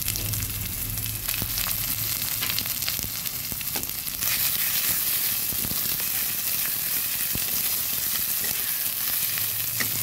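Ground bottle gourd leaf paste fries in a pan over lowered heat, giving a steady, close sizzle with soft scraping and stirring that continues throughout without a break.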